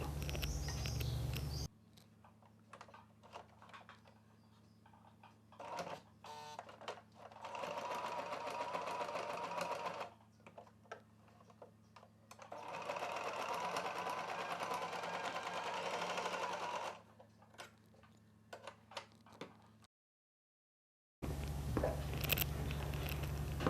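A sewing machine stitches along the top edge of a folded hair scrunchie, a steady close whir under a constant low hum, running in long stretches with brief stops and a short silent gap near the end.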